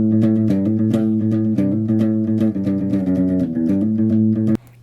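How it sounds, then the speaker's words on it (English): A clean electric guitar plays a bright run of plucked notes and chords, close and loud, then stops abruptly just before the end. "a clean guitar sounds like this"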